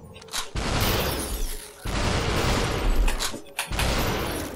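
Shotgun blasts in the VR game SuperHot VR: long, loud, dense bursts of firing separated by short gaps.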